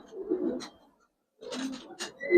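Pigeons, a female and a male of a Giribaz pair, give short soft coos in two brief bursts separated by a silent pause, close and fairly quiet.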